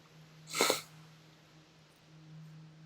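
A single sharp sniffle or snort bursts out near and loud, then fades back to a quiet room hum.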